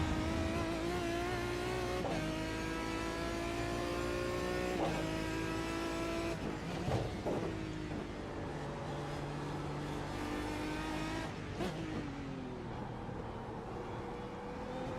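Aston Martin DBR9 GT1 race car engine in the iRacing sim, a loud continuous roar with rising and falling revs, sharp gear shifts and throttle blips throughout, with no talk.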